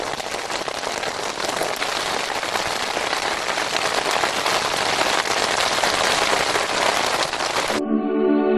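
Heavy summer rain pours down on an open Central Asian steppe, a dense, loud, continuous hiss of countless drops striking the ground, steady and close until it cuts off abruptly near the end.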